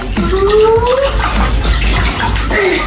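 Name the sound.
water poured over a dog during its bath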